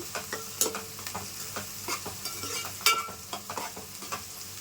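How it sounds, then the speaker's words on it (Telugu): Onions frying in a pan for a pond fish curry, a soft continuous sizzle broken by a series of scraping stirs and clinks of a spoon against the pan, close and fairly quiet. "ఉల్లిపాయలు వేయించుకోవాలి"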